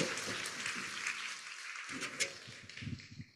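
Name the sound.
audience applauding after a lecture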